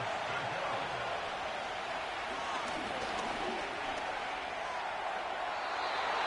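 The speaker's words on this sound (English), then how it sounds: "What about this crowd getting even louder before 3rd and 10?" Stadium crowd noise in the Madden football video game, a steady, dense roar that holds at a constant level, with no pause, just before a 3rd-and-10 play.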